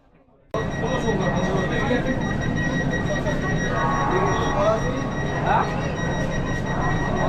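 A Vande Bharat Sleeper train runs at night from Howrah to Kamakhya, with a loud, continuous rumble and steady tonal whine heard from inside the coach.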